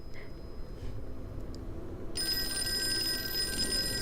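A telephone rings in the Call of Cthulhu video game, a sustained electronic bell tone starting partway through and continuing steadily over a low room hum, fairly loud with no talking.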